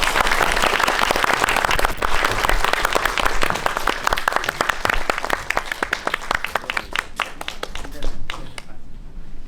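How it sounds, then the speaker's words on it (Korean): An audience in a cinema applauds at a film screening talk event, sustained dense clapping close and loud that gradually thins and fades out near the end. "박수 좀 부탁드리겠습니다."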